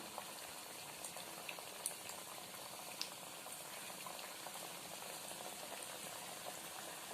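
Banana flower fritters bubble and crackle in hot oil, a faint, steady frying hiss with small pops and no talk.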